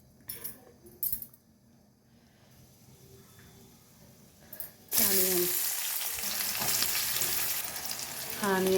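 Seeds dropped into hot oil in a wok for a potato curry burst into a sudden loud sizzle with popping crackles, after several seconds of quiet with a few faint clinks, staying close and continuous.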